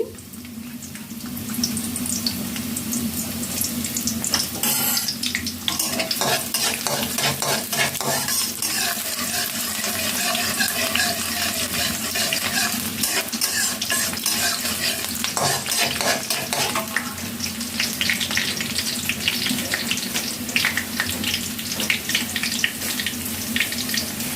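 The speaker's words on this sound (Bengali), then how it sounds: "তেল দেব একটু বেশি দেব যেহেতু ভোনা করব তেল না উঠলে ভালো লাগবে না দিয়ে দিলাম পেঁয়াজ কুচি" Chopped onions frying in a generous amount of oil for a bhuna, giving a loud continuous sizzle with bursts of crackling and stirring that run close and unbroken throughout, without any talk.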